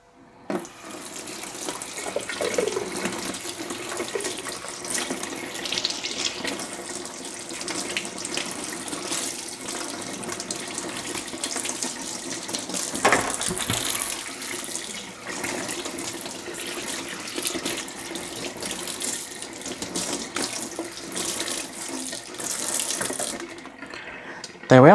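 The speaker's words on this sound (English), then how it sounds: "Now it's time to give it a quick rinse." Running tap water pours steadily over Dyson WashG1 hard floor cleaner parts as they are rinsed in a sink, a continuous close splashing hiss with slight shifts in flow, no talking.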